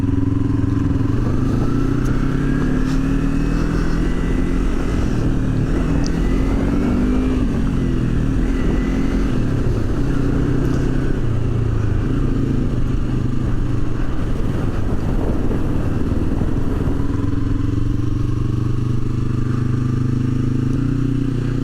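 A sport bike on its first ride, engine droning and shifting pitch as it rides along a road near Hoh rainforest, steady and close with no talk over it.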